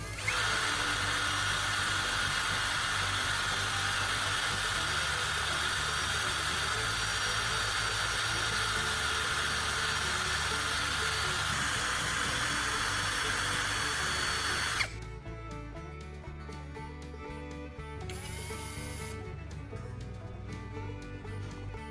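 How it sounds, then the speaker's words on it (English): A power drill spins a battery core against sandpaper to sharpen it into a soldering tip, making a loud, steady grinding whine that later drops to a quieter motor hum. "Next, sharpen it with sandpaper."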